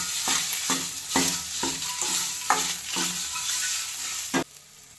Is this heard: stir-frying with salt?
yes